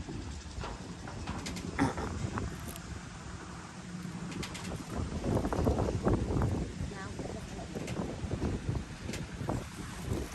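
Cold wind blowing outdoors at a rural garden, a constant rough rush of wind buffeting the microphone throughout, with people talking underneath.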